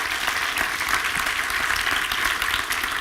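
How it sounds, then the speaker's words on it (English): Audience at a European policy conference gives a sustained burst of applause, dense steady clapping from a large crowd with no pauses, loud and close throughout. "And big applause to him."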